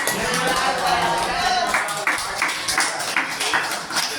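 People at a home for differently-abled residents clap together to offer wedding anniversary wishes, a sustained patter of hand claps with a few sharper individual claps standing out near the end.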